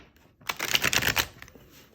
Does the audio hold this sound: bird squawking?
no